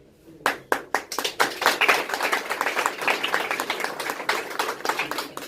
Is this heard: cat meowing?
no